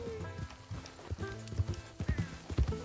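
A horse in the video game Red Dead Redemption 2 clip-clops and shifts about close by, its hooves thudding irregularly with low snorts, over a quiet ambient game background.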